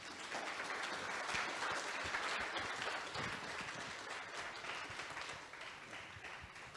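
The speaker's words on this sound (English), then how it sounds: "I'm going to ask for another round of applause" Conference audience applauds in a sustained burst of dense clapping, loud and steady throughout, tapering slightly toward the end with no talk over it.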